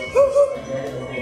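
A voice imitates a dog barking, two short yelping barks in quick succession followed by a fainter, drawn-out vocal tail.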